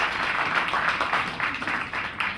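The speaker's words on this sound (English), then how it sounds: "A round of applause for the 3 brand ambassadors who are here this evening." An audience applauds for brand ambassadors at the Huawei Mate 8 phone launch event, a dense, steady burst of clapping that stays loud and continuous throughout.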